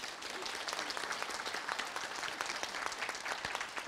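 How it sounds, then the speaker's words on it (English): Audience applause at a palliative care panel discussion, a steady wash of many hands clapping, fairly soft and continuous with no voices over it. "Would you please make Jenni welcome?"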